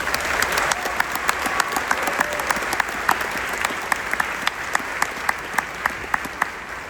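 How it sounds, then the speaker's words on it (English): Steady applause from the audience at a youth academy graduation ceremony in Los Alamitos, California, dense clapping throughout with a few sharp, louder individual claps standing out near the microphone. "Let us give you a big round of applause."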